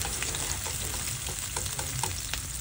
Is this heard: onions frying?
yes